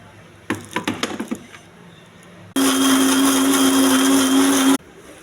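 Blender whirring steadily for about two seconds as it grinds coconut, roasted peanuts and chopped tomato into paste for chicken curry, loud and close, preceded by a burst of rapid clattering knocks.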